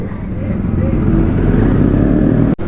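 Motorcycles pass along a busy street near a temple crossroads in Kanpur, a loud, steady engine drone running under crowd noise and close voices, then cutting off sharply near the end.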